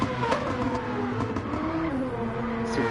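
Orange and black racing car engine in Gran Turismo 7 at Mount Panorama Motor Racing Circuit, a loud continuous rev with shifting pitch and gear changes, close and steady throughout.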